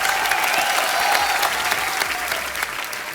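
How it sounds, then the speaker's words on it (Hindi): Dense, steady applause from a large television comedy show studio audience, loud and continuous throughout, filling the room without a break. "जोरदार तालियां एक बार।"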